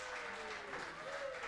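Steady applause from an audience at an evening gathering of Christian men, filling the moment evenly with a dense wash of hand claps and a bit of voice mixed in.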